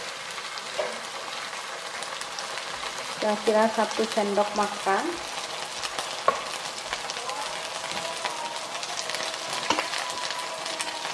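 Oyster sauce sizzles in a pan of frying sausages, a steady close hiss with a brief burst of crackling as the sauce goes in, while a person speaks briefly.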